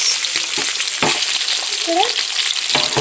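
Chilapi fish crisping in hot oil, a loud, dense, close sizzle that runs throughout, with a few scraping stirs and a brief high squeak.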